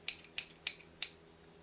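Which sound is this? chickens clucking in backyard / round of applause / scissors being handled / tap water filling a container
scissors being handled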